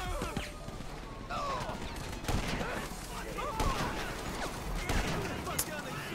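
Gunfire in a GTA V sniper match: a steady loud barrage of rapid shots and bursts with repeated sharp cracks over about six seconds, under someone talking.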